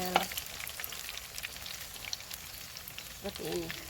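Small pieces of food frying in a pan over an outdoor cooking spot, giving a constant crackling sizzle at moderate loudness, with a brief louder stir or splatter near the end.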